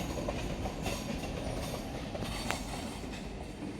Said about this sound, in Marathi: तर गाईज तुम्ही बघू शकता ही ट्रेन